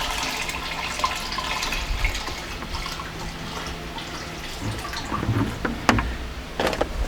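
Fertilizer solution poured from a bucket into a tank, a steady close splashing and trickling of liquid with a few brighter drips and sloshes toward the end.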